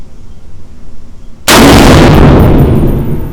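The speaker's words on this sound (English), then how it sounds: "Take it off safe and pop a couple of shots." A single loud, close gunshot from a POF-USA Rogue 12.5-inch .308 pistol cracks out after a quiet lead-in, followed by a long, rumbling echo that slowly fades.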